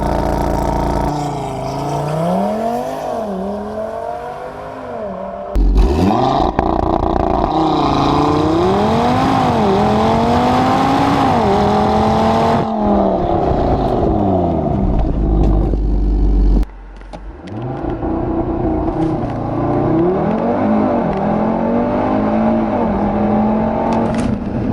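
A 400 hp Audi TT RS accelerates hard around the Jarama race circuit, its engine roaring loud and close with rising revs and quick gear changes, briefly dipping before it surges again.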